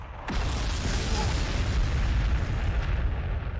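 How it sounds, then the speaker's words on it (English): A frag grenade goes off in the Warhammer 40,000: Sanctus Reach strategy game, a sudden loud boom followed by a sustained rumbling roar of explosion and debris that fills the few seconds. "let's throw some frag in here first."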